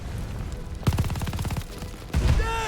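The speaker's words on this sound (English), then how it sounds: "Grenade launcher thing." Rapid bursts of weapon fire from a grenade launcher in the World War II shooter Call of Duty: Vanguard, loud and close, with a dense stutter of shots and a second burst near the end over a steady game background.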